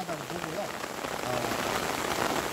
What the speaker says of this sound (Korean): 예, 이제 비도 자꾸 거세지니까 빨리 마치라고 하는 것 같아요. 빗소리가 엄청날 겁니다.